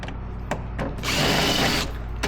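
A power tool runs steadily while removing fairing screws on a BMW K1300S motorcycle, with a couple of short bursts before a longer, louder whirring spell that settles back down, close up and without talk.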